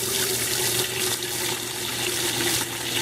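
Tap water runs steadily and loudly into a pot for boiling, a continuous close rushing stream with no talk.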